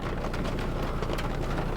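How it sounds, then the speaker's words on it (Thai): Heavy rain pours steadily in Samut Sakhon, Thailand, near a canal-side noodle shop, a dense unbroken hiss with no voices over it. "คือฝนมันตกค่อนข้างเยอะนะครับ"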